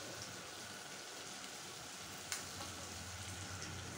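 Cooked salted squid stir-fries with soy sauce in a pan as a soft, even crackle and sizzle at low volume. One sharp utensil click lands midway, and a faint low hum sits beneath.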